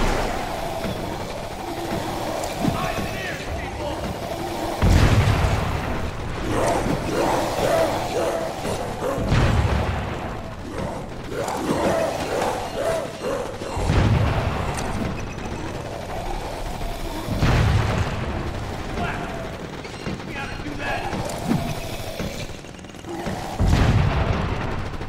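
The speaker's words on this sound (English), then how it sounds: "Use your grenades to blow these freaks to pieces." Grenade explosions in the video game Crackdown 2 go off as repeated heavy booms and thuds every few seconds, loud and close, mixed with gunfire and game sounds.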